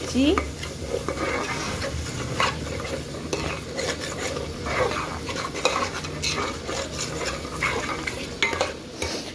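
Masala gravy for a chicken dish is stirred in a pan with a utensil. Repeated scraping clatters sound over a low, steady sizzle.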